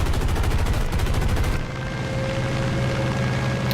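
An F4U-1a Corsair fighter plane in War Thunder arcade mode fires loud, rapid machine gun bursts for about a second and a half, then its steady propeller engine drone carries on alone.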